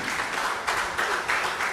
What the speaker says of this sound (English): So please give yourself another round of applause.